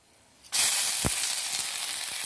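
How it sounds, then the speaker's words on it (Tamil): Two dried red chillies hit hot oil with a sudden loud sizzle that starts sharply and keeps crackling steadily, with a brief thump partway through, while making tomato rasam. "2 வரமிளகா சேர்த்து நல்லா வறுத்துக்கலாம்"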